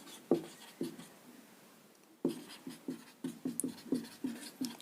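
A pen writes a value into an algebra equation on paper, scratching out short, rhythmic strokes, faint and close, with a brief quiet gap before a quicker run of strokes.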